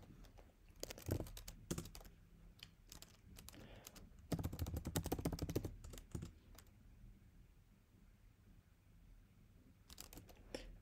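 Someone typing a GitHub username and password on a computer keyboard: soft, close keystrokes in irregular bursts, a dense run in the middle, then a long quiet pause before a final few taps.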